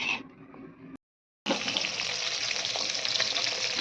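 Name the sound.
fish frying in a pan with salt and turmeric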